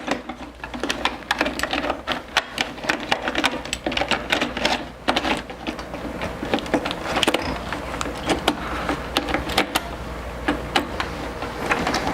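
Ink cartridges being installed into a Brother printer with a continuous ink system, a busy run of close plastic clicks, snaps and handling knocks over a constant low hum.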